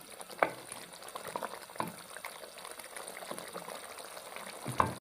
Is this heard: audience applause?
no